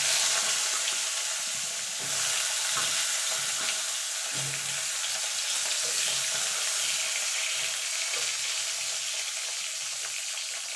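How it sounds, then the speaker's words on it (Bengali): Eggplant pieces fry in hot oil, giving a loud, steady sizzle and crackle with occasional faint stirring sounds beneath. "এই তেলে বেগুনগুলো ভেজে নেব"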